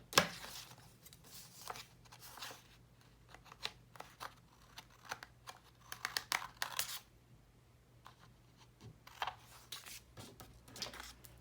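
Scissors trimming the edges of a paper accordion organizer folio, a series of quiet crisp snips coming in irregular bursts with short pauses between cuts.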